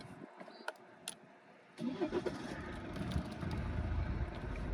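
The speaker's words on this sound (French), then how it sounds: "Je vais mettre le contact, peut-être ça va." An Alfa Romeo Giulia with a remapped engine is started: a few faint clicks and quiet cabin sounds, then the engine cranks and catches into a loud, close, rumbling idle that holds steady.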